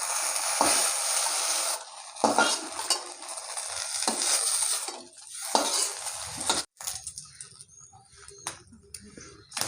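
Fried eggplant pieces are lifted out of hot frying oil in a kadai, with stirring and scraping clatter over a continuous sizzle, close and fairly loud.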